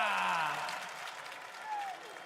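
Large arena crowd at The International 12 Dota 2 grand finals, cheering and applauding in a loud roar that slowly fades, with whoops rising above the mass of noise.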